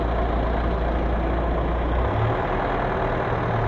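A truck engine idles with a steady, close, low diesel rumble, and its pitch drops slightly partway through. No voices are heard.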